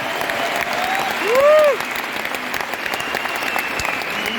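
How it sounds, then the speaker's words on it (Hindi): Audience applause at an awards function in Delhi, a dense, steady clapping from a large crowd that swells briefly before holding level, with no talk over it. "एक जोरदार ताली होनी चाहिए कि दुनिया भर में उसको सुनाई जाए"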